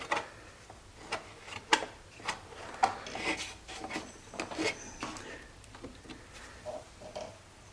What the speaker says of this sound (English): So I'm just going to go in, kind of wipe things down inside.